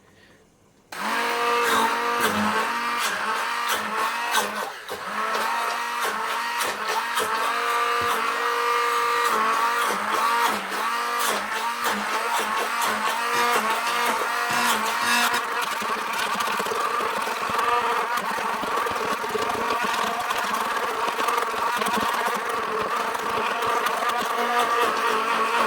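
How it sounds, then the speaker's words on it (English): A stick blender whirs loudly and steadily through nettle soup, a continuous motor drone with slight fluctuations in pitch, running nearly unbroken from just after the start to the end. "Okay, now we need to blitz it. We're going to do it with one of these stick blenders."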